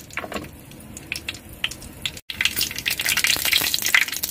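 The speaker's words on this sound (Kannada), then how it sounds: "ನೋಡಿ ಸಾಸಿವೆ ಚಟಪಟ ಅಂತಿದೆ" Mustard seeds splutter in hot oil in a clay pot, a steady crackling sizzle that breaks off for a moment and then returns denser and louder, popping close by.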